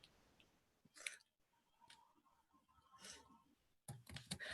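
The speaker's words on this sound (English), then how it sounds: "I can hear you typing." Faint computer keyboard typing heard over a quiet online meeting connection, with a few short bursts of clicking keys separated by pauses and low background noise.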